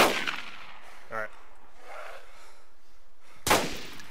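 Two gunshots in the DayZ video game, one loud crack at the start and another near the end, separated by a quiet stretch with faint game sounds in between.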